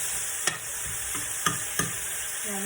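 Garlic frying in a pan for chicken adobo gives a faint steady sizzle, broken by a few sharp scrapes and taps of stirring.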